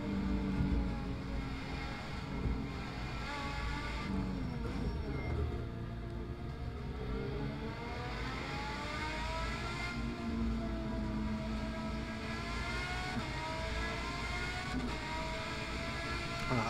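A Renault Megane race car laps Cadwell Park circuit, its engine a steady, muffled drone heard from inside the cabin, with gradual pitch sweeps as it accelerates through the gears over a sustained stretch.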